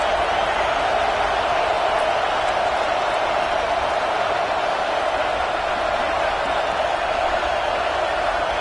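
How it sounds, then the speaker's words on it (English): A loud, steady stadium crowd roar from a USC college football video game fills the whole stretch, a dense, unbroken wall of noise with no distinct claps or shouts standing out. "This crowd, full throat, splitting the eardrums and letting him know it's going to be a long day."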